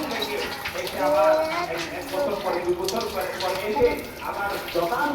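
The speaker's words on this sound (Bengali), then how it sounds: "পানি বন্ধ করবে না" Water running from a tap, a steady splashing gush that continues throughout, with voices speaking over it.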